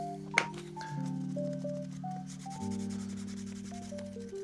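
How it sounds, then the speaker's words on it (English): Close, quiet rubbing on a leather edge produces squeaky, pitch-shifting friction tones with a small knock near the start. "Keep burnishing until you start getting that sound and that friction."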